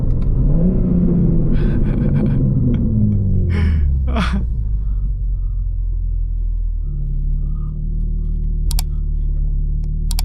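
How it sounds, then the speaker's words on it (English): A BMW M4 Competition with a loud exhaust is held at high revs, a deep roaring engine note rising and falling, then it settles to a steady rumbling idle with a few short pops near the end. "I'm gonna over-rev this shit for him."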